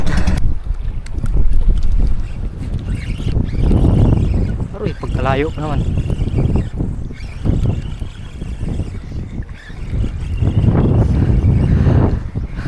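Strong wind before an approaching typhoon buffets the microphone in heavy gusting rumbles while a person speaks briefly over the blustery roar during fishing.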